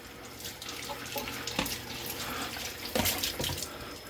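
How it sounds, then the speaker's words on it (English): Steady rush of tap water running into a kitchen sink, with brief clatters and scrubbing as a cutting board is washed beneath the stream. "First just gonna wash this cutting board."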